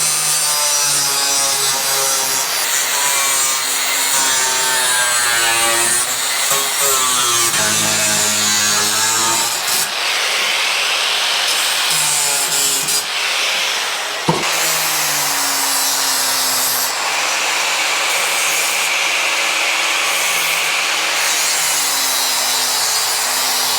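A metal piece being cut out for a BMW project car in a workshop, with a loud, continuous, harsh grinding and sawing rasp that changes pitch as it works, close and unbroken for the whole stretch.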